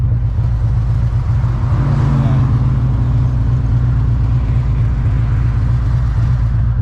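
A motorcycle called Barber CVO's bike, carrying a passenger on the back through Tennessee, gives off a steady, close engine rumble with a low drone and wind noise throughout, briefly rising near the middle.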